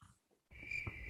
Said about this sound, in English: Literally crickets.